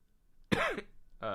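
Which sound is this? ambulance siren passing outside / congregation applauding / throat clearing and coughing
throat clearing and coughing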